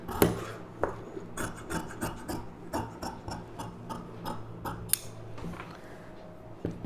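Scissors cutting silk cotton lining blouse fabric along the front V shape, a steady rasping snip and rub with irregular sharp clicks, close and continuous.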